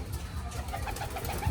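Racing pigeons cooing close by, soft low throaty murmurs over a short stretch with a fuller coo at the end.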